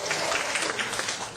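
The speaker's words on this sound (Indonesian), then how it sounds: "Tepuk tangan dulu" A workshop audience of school teachers claps steadily together, a dense continuous patter of applause with no gaps, fairly loud and close.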